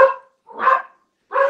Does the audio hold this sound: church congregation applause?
no